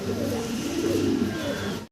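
Birmingham roller pigeons cooing nearby, soft repeated low coos over a dense background of other birds, brief and steady.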